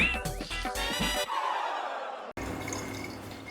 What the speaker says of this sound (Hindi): पानी की बोतलें भी मैं ही भरूं